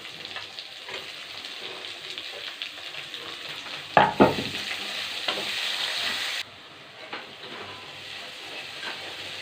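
Onions sauté in hot oil in a pan for karuvadu thokku, a continuous close hissing sizzle with a burst of louder crackling and stirring partway through, then a softer sizzle at the end.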